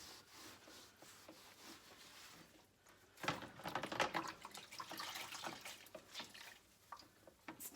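A very wet cloth wipes and rubs inside an oven, clearing away excess bicarbonate of soda residue, making soft, quiet, continuous squelchy scrubbing strokes that grow a little busier partway through.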